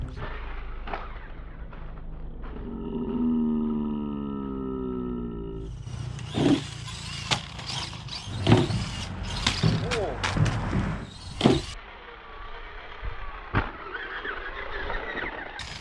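A small motor whines steadily, then a series of sharp bangs and clattering knocks follow with brief pauses, as a HoSpeed Thunder 1/18 RC car repeatedly crashes.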